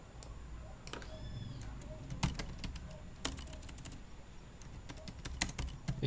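Rapid, quiet clicking of keys on a computer keyboard as code is entered, with irregular bursts of taps and short pauses between them, close and fairly soft with no voices.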